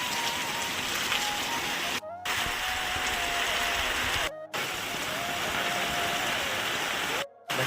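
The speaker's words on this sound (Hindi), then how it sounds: "भयंकर बारिश है, भयंकर बारिश" Heavy rain pours down steadily in a dense, continuous roar, with a faint tonal whine running underneath and a few brief dropouts.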